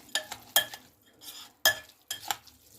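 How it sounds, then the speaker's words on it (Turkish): Spoon stirring a stuffed pepper filling mixed with olive oil in a bowl, giving four short, close clinks and scrapes with brief quiet gaps between them. "Şöyle karıştırıyoruz."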